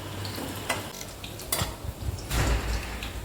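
Bitter gourd fritters fry gently in a pan over low heat, giving a steady soft sizzle with a few louder scrapes and clinks of a utensil stirring against the pan.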